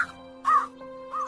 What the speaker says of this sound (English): There was a crow which was very thirsty.